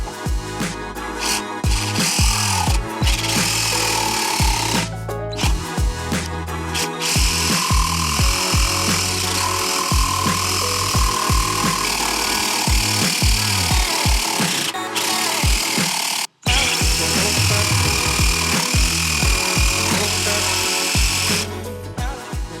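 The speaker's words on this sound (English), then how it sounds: "how well it can cut through some pretty thick maple, which is a pretty hard wood" A Ryobi scroll saw cuts through thick, hard maple, its blade buzzing loudly and continuously with a steady rasping rhythm and a brief stop midway before the cut resumes.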